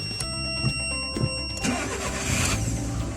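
Mitsubishi Colt starting on a newly cut replacement key, the engine cranking briefly and then catching into a steady idle with a faint rev, heard nearby with no talking.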